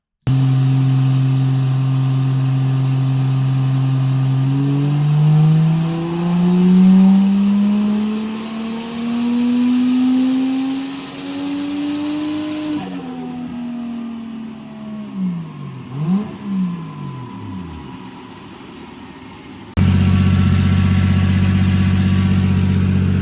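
A Toyota car engine revs on a dyno during a power run, its pitch climbing steadily then wavering and dropping in uneven surges before cutting off, followed by a loud steady drone of the dyno or a different engine note.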